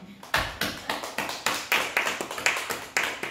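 A church congregation claps to encourage a member, steady rhythmic hand claps at a moderate distance, fairly faint, keeping an even beat.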